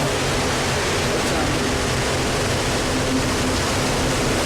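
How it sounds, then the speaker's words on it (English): A constant broadband roar of strong wind around a house, loud and steady with no clear breaks, filling the whole clip without any voices. "That sound you hear is just the sound of the normal wind."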